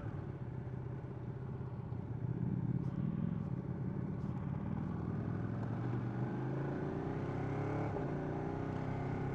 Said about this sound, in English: today I'm on the new 959 Panigale